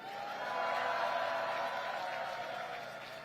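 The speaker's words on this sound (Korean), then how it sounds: "우리 군 장병들에게 감사와 격려의 박수 부탁드립니다" A crowd at an outdoor political campaign rally applauds and cheers in thanks to soldiers, a broad, steady swell of clapping and crowd noise that rises and then eases slightly.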